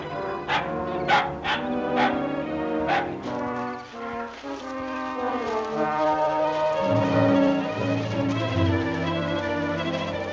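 A dog barks in an old film soundtrack, a quick series of sharp yips and barks at the start, then orchestral music carries on alone.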